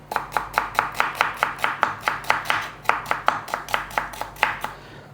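Onions being chopped with a knife on a cutting board, heard as a quick, even series of crisp, close knocks, roughly four per second, with no talk over them.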